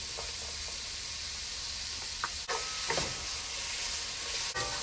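Scallions sauté in a hot pot as the start of a veggie stew, a steady close sizzle and hiss broken by a few soft clinks and stirring taps.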